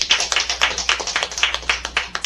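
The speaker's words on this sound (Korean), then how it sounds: "할렐루야로 박수를 맞이하겠습니다" Steady applause from a seated audience at a church mission gathering, many hands clapping in a quick, even patter that holds at moderate loudness throughout, with no talking over it.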